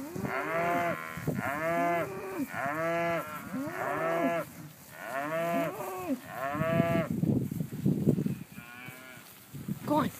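Fat yearling calves in a small grass pasture moo repeatedly in a steady run of loud, close calls, with a few quieter lows and rustling toward the end.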